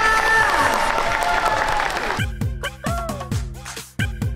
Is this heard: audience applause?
yes